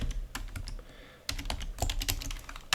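Typing on a computer keyboard to enter a number, a close burst of sharp uneven key clicks with a brief pause, then a quicker run of taps.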